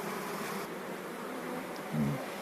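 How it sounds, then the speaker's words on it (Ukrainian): Honeybees buzz around frames taken from a hive, a soft, continuous droning hum with one bee passing briefly closer and louder near the end. "Як бачите, бджіл тут дуже дофіга."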